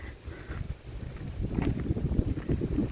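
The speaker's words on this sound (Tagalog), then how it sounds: "Medyo mahangin dito sa side na to." Low rumbling gusts of wind at a berry farm buffet the microphone, growing stronger and more blustery toward the end.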